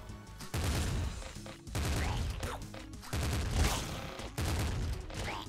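Assault slugger fired in the Nuclear Throne roguelike, four loud heavy volleys of shotgun-like blasts spaced about a second apart, each burst dense and booming, with game effects between.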